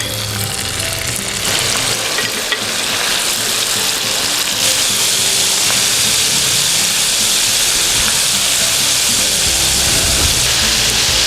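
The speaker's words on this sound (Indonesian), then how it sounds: "ikan ini akan kita goreng" Tapioca-starch-coated fish fries in hot oil, a loud, dense, steady sizzle that keeps going without pause and grows slightly brighter toward the end.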